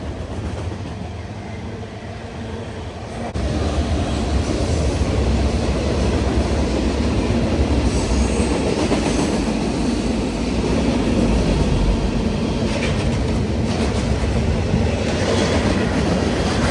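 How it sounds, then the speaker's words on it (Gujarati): A train rolls past a bridge near a waterfall in Oregon, a loud, steady rumble with wheel clatter that swells after a few seconds and holds, close by, with no talk. "અહીંયાથી ટ્રેન જશે મને ખબર જ નથી."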